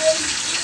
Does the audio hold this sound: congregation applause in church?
no